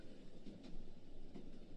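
A train runs on its rails with a continuous low rumble and soft rhythmic rolling, carried steadily at a moderate level with no talk over it.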